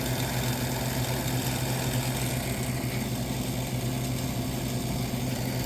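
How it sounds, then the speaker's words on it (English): A 1978 Gibson Air Sweep 5900 BTU window air conditioner runs with its condenser fan rubbing against the shroud, giving a loud, steady mechanical drone and hum with constant vibration and no voices. "The condenser fan is rubbing against the shroud, unfortunately."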